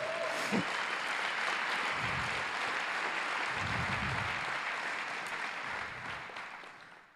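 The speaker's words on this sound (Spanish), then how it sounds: "Así que fuerte aplauso a Dios por ello." A church congregation breaks into sustained applause, a broad, even roar of many hands that stays steady for several seconds and then fades gradually, with faint low thumps underneath.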